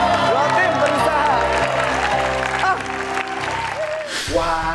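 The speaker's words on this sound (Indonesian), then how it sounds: "Tepuk tangan dong untuk duanya" A Family 100 game show studio audience applauds the two competing teams, a steady crowd clapping that runs beneath bright music and over-the-top announcing throughout.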